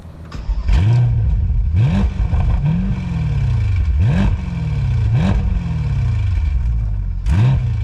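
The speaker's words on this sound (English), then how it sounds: "you got these massive quad tip exhausts on the back of this car, and they make a nice glorious sound." A 2022 Bentley Continental GT V8 with quad-tip exhausts revving repeatedly, about seven sharp throttle blips rising and falling in a rhythmic pattern, loud and close with a burbling idle between them.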